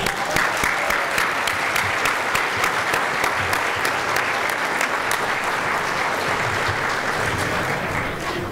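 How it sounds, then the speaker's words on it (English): Audience at a spring 2012 California Republican Party convention dinner applauds steadily for the RNC co-chair, a dense, sustained clapping from a large crowd that holds at full strength throughout. "please give a warm round of applause for the RNC co-chair, the great Sharon Day."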